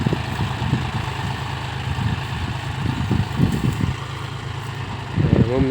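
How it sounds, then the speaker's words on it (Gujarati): A John Deere tractor engine idles steadily at close range, a low continuous rumble with a few brief bursts, and it swells slightly near the end. "ભાઈ ટ્રેક્ટર આવી ગયું છે કમ્પ્લીટ. હવે જોન ડિયર ટ્રેક્ટર છે ભાઈ"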